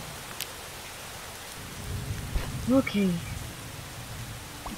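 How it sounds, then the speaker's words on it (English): Steady rain with low rumbling thunder in a Starbound storm, heard as a constant hiss under a brief spoken word from a player. "Dark and stormy."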